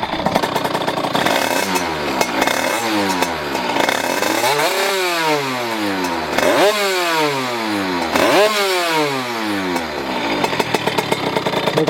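A Derbi DRD Pro motorcycle engine revs repeatedly, sharp pitch sweeps climbing and falling in several throttle bursts over a steady idle, loud and close with no talking.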